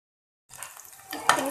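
Potato fries coated in besan being dropped into hot oil in a kadhai and stirred with a spoon, a sizzling fry building after a short silence and getting louder, with a metal clink near the end.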